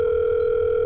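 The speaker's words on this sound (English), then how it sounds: "Now, we're going to phone our senior." A steady telephone dial tone from a virtual reality doctor game hums alone, unbroken and constant from start to finish.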